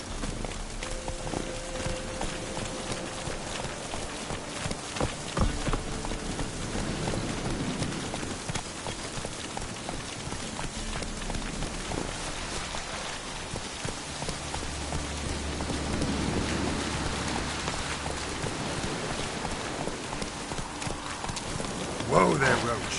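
Hoofbeats of the horse Roach clop steadily at a walk through rain in a video game, a soft rhythmic clip-clop under continuous rainfall, with a voice speaking over it.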